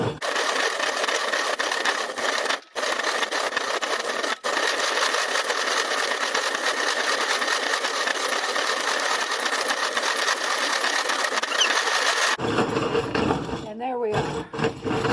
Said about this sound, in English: There are easier ways now to grind, but we're off grid. We're doing without power, so this is our power.